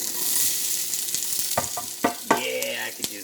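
Burrito meat frying in a hot pan, a steady close sizzle with clacks and scrapes of a utensil stirring the pieces around.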